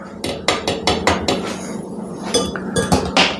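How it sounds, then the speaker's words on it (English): A spoon scraping and clinking against a pot while stirring tomato soup with cream, a regular series of close metallic knocks and scrapes, loud and with no one talking. "just keep stirring it for a couple of minutes till it's all stirred in"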